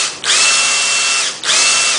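A power drill whirs loudly in two long runs while taking apart a Lian Li B10 PC case, briefly easing off between them, with a steady high-pitched motor whine and no talking.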